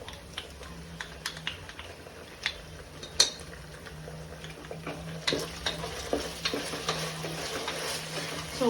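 Ginger garlic paste fries with browned onions in a pan, a continuous low sizzle broken by frequent sharp spoon clicks and scrapes as it is stirred.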